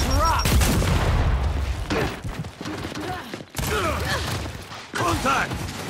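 A frag grenade blast and scattered gunfire crack through a free-for-all shooter match, loud and close, mixed with metallic clatter and voices shouting over the action.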